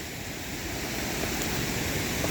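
Kearsley Creek rushing steadily below an old logging bridge in snowy country, a continuous broadband wash of flowing water with no breaks and no voices.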